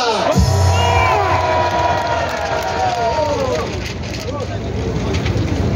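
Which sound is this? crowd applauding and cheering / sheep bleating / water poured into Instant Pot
crowd applauding and cheering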